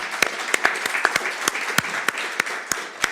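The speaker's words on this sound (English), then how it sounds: "yes, you may applaud now" Studio audience applause at the close of a live talk show segment, a steady wash of clapping with sharp individual claps standing out, continuous and fairly loud throughout.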